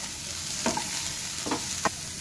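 Vegetables frying in butter in a covered pan give a steady, close sizzle, with a few brief stirring scrapes breaking through and no voices.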